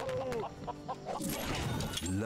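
Chickens clucking in the Lego Worlds video game, several short clucks in a row under a man's speech, followed by a brief crash-like clatter.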